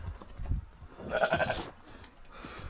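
A lamb bleats on a farm, one short, clear, nearby cry in the middle of quiet surroundings with faint background shuffling.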